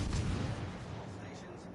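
Naval gunfire from World of Warships: Legends rumbles in a heavy low boom at the start, then fades into a dull sustained roar of battle noise, fairly loud and close.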